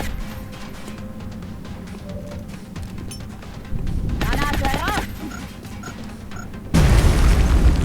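Heavy booms and bursts from a video game firefight, with grenade blasts rising out of a dense rumbling mix and a loud final explosion near the end.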